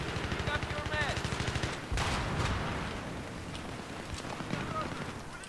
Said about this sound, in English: This gun has a good fire rate